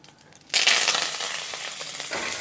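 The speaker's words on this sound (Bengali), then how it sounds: "কারি পাতা তেলের মধ্যে প্রচণ্ড পরিমাণে ফোটে" Curry leaves dropped into hot oil with a few cumin seeds in a wok burst into a loud, sudden crackling sizzle that stays intense and close, with stirring, while preparing masoor dal.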